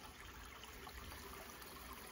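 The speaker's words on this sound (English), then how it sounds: "Nice flat creek. Running water" Water running over a flat creek bed among large rocks and bracken fern on a hot day, a faint, steady broadband wash that continues evenly throughout with no voices.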